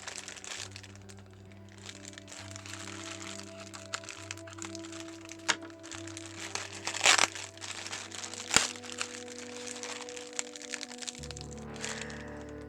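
A Vograce order box is opened and unpacked, with crinkling, crumpling packaging and a few sharp cracks and thunks over a low steady hum.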